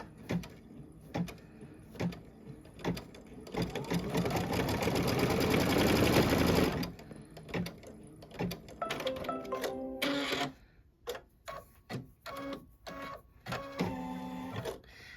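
An embroidery machine stitches a strip of beige fabric onto a coaster, running in loud rapid mechanical bursts with a sustained fast stitching stretch, then choppy starts, stops and whirring carriage moves, no talking.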